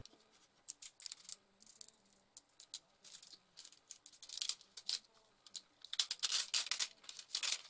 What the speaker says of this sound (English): Use your spatula to gently remove your freezer paper from the mat.